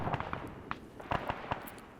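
Several frag grenades going off during an Arma 3 firefight, producing a few sharp, fairly distant cracks spread irregularly over the moment, with no voices.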